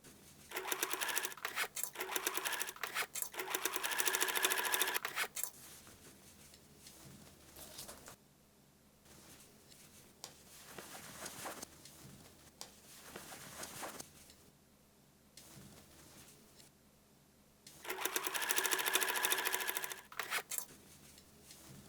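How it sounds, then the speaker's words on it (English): A sewing machine stitches the lining pieces and main body of a backpack made from old umbrella fabric, with rapid close runs of stitching at the start and the end and quieter handling between them. "Sew lining pieces together, join them to the main body, and stitch the top edge."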